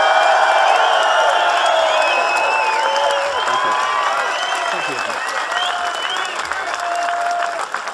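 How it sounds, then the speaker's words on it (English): A big crowd at a public gathering applauds and cheers continuously, with whoops rising above the clapping and a voice speaking over it. "we're going to give an enormous round of applause for Mr. David Icke."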